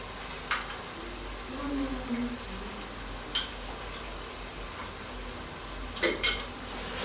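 Nigerian jollof rice stirred in a pot with tomato paste, scattered metal clinks of a spoon against the pot and soft scraping over a low background, close by.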